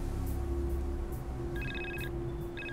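A mobile phone rings in two short electronic chirping bursts, faint over a loud, steady low drone and background noise.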